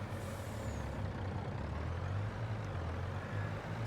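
A tractor hauling silage in a farming simulation game, heard as a steady, loud low engine drone with a continuous rumble and a brief hiss of air near the start.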